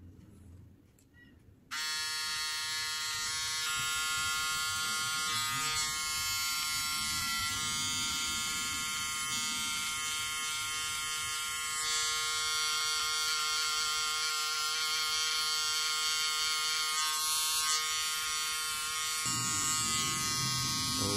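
An electric trimmer buzzes steadily and loudly as it shaves off a man's mustache, starting abruptly after a short quiet moment and holding a constant high whine until its pitch drops near the end.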